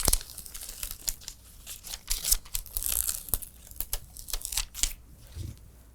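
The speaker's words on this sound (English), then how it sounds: "And of course now we'll remove our paper from the main" Paper backing is peeled off a fabric background shape for a holiday bells table runner. It gives close, crackly tearing and crinkling bursts in an irregular stream, with no voice over it.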